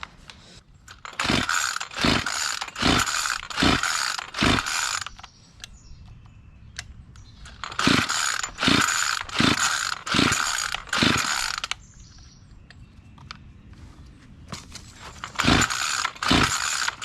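A small two-stroke weed wacker engine, freshly carburetor-adjusted, runs in rapid revving bursts, several rising blasts in two long groups separated by a quieter idle, close and loud.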